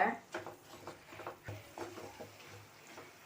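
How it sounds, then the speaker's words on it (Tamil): Fried boondi for laddu is stirred in a pan over low flame, giving soft rhythmic scraping and shuffling strokes, close and fairly quiet, with faint talking in the background. "சேர்த்து நல்லா லோ ஃப்ளேமில் வச்சு கிண்டி விடுங்க"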